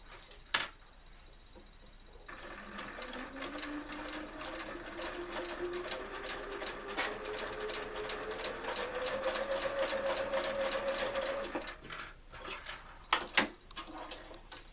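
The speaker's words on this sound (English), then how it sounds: "And then I'll sew it." A sewing machine stitching a quilt block runs in one long steady whir for about nine seconds, pitch slowly rising as it speeds up, with a few clicks and handling knocks before and after.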